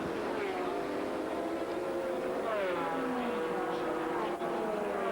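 Race cars at a Grand-Am 2000 race roar steadily, their engine notes rising and falling in overlapping sweeps as several cars pass close together, loud and continuous throughout.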